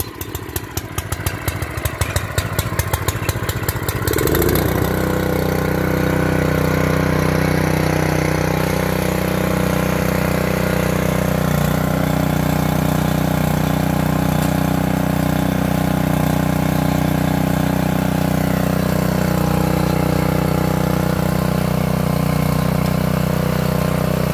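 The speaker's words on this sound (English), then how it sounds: "if it's your first time to use this Champion walk behind tiller, you're supposed to engage the till" A Champion walk-behind tiller engine being pulled to start, sputtering in rapid firing pulses, then settling into a loud, steady, continuous close-up drone with no talk.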